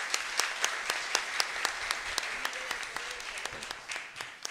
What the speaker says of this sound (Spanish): Un aplauso para esta hermosa niña.